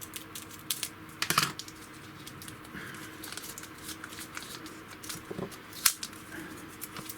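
Scissors snip through packaging during a DJI Osmo Pocket 3 unboxing, a few sharp close clicks and cuts with soft rustling in between, no talking.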